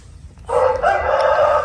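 A rooster lets out a single loud, close crow that starts abruptly and holds steady over low background noise.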